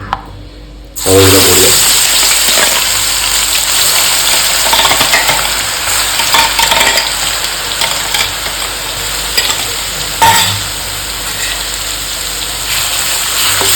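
After a brief quiet moment, ginger and garlic drop into hot oil for tuna pickle and sizzle loudly and steadily, with occasional stirring clatter throughout.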